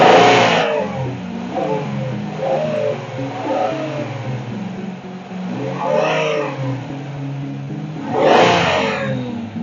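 A 1999 Buick LeSabre engine is revved by flipping the throttle, giving several sharp rising revs that fall back to idle, close and loud, the last burst the strongest.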